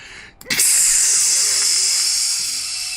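A voice imitates steam hissing up from a water elemental quenching fire, a loud close breathy hiss that starts abruptly after a brief intake and holds steady, slowly fading over a few seconds.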